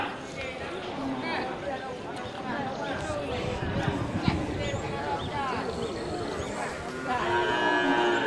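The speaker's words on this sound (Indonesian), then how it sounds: "Sapi Aceh bulu hitam nih" Black-haired Aceh cattle moo several times amid a busy crowd of talking voices, with steady livestock market bustle throughout.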